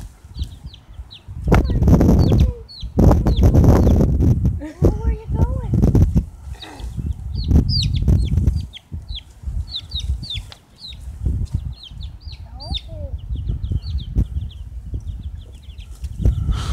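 Four-week-old chickens clucking with bursts of loud wing flapping close by, while small birds chirp steadily in the background.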